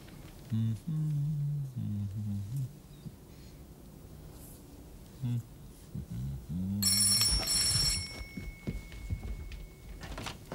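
A telephone rings in a home in the comedy Pugwall's Summer, starting after a stretch of low muffled voices and sounding as a bright, loud, sustained ring that is then mixed with more indistinct sounds.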